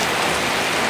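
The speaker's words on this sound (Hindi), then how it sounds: "तेज़ हो रही यार बारिश, अब तो रुकना ही पड़ेगा कुछ देर" Heavy monsoon rain pours down in Nainital: a dense, steady hiss of drops drumming on surfaces, loud and unbroken throughout.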